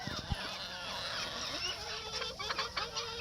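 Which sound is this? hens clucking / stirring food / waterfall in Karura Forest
hens clucking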